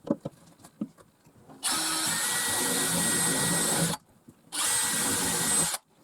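Power drill boring holes into a furniture board, two sustained loud whirring bursts of several seconds each separated by a brief pause, close up, preceded by light knocking and handling.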